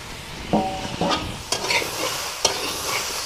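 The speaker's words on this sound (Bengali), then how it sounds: "এইভাবে আমি সব কিছু সবজিকে কিন্তু একসঙ্গে কষিয়ে নিচ্ছি।" Diced potato, pumpkin and peas are sautéed together in a pan for Bengali khichuri, with a soft sizzle of frying under several distinct scraping stirs of a spoon against the pan.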